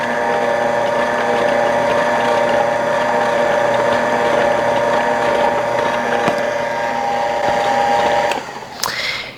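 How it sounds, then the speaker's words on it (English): Electric stand mixer running on low, kneading bread dough of flour and salt with a steady loud mechanical whir and rhythmic gear ticking, stopping near the end with a clatter. "And I'm gonna mix that on low."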